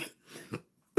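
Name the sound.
cough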